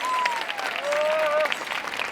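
A crowd at an outdoor protest rally against a lead smelter in Yeongju applauds a pastor, with steady clapping throughout and a voice calling out over it.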